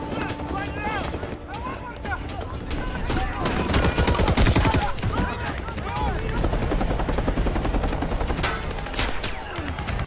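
Helicopter rotor thrum mixed with bursts of automatic gunfire and shouting voices, loud and chaotic throughout.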